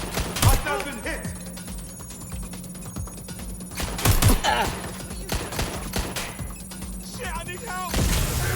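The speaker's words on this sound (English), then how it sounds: "Target is firing!" Gunfire in the video game Watch Dogs Legion: sharp bursts of shots in quick clusters, loud and close, with a steady background hum and voices shouting between the volleys.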